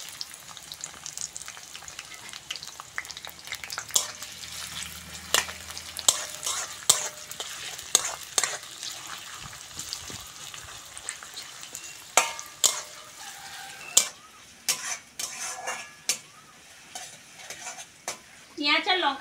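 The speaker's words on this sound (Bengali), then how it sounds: "পেঁয়াজ আর লঙ্কাটা হালকা করে ভেজে নিয়েছি" Sliced onion and green chilli fry lightly in a pan for a Bengali vegetable curry, with a soft sizzle under repeated sharp scraping and clacking stirring strokes.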